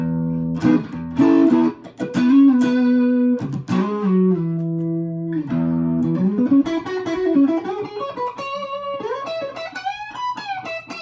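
Fender Deluxe Stratocaster electric guitar with humbucker-built pickups voiced close to single coils, played as a sustained run of chords and melodic lines, clean and fairly loud, with no voices throughout.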